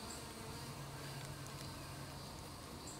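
Honeybees buzz close by in a steady, unbroken drone that stays even in level throughout, with no voices.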